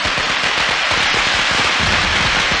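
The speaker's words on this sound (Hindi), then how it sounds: "फिर भी पटाखे चला रहे हैं" A dense, rapid crackle of firecrackers pops continuously and loudly, the bursts overlapping without pause throughout.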